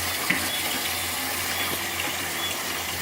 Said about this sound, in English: I like to wash my rice like 3 times just to make sure.